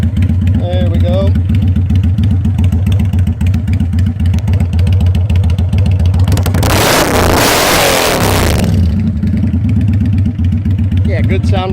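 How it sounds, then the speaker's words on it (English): A 1998 Kawasaki Vulcan 800 motorcycle engine idles with a steady, loud, close thumping pulse, then revs up sharply around the middle before settling back to idle; a voice speaks briefly over it. "Yeah, good sounding bike, guys."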